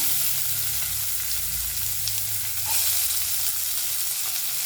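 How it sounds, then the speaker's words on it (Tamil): Chopped onion sizzles loudly in hot oil with cumin and curry leaves, a dense, continuous close-up frying hiss with faint crackles and low bubbling, and no talking. "இப்போ நல்லா ஃப்ரை பண்ணிக்கலாம்"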